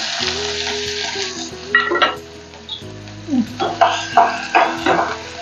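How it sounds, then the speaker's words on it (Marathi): Chopped onion dropped into hot oil in a heated kadhai sizzles and crackles as it fries for a Maharashtrian dry shrimp (sukat/jawla) and green chilli dish, with sharper bursts of sizzling later and a voice speaking at the start. "तेल आता गरम झालेलं आहे त्यामध्ये कांदा टाकून घेऊया"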